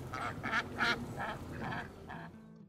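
A run of nasal Indian Runner duck quacks in a vegetable garden, about six in a loose rhythm, moderately close and fairly quiet over a low background rumble, trailing off at the end.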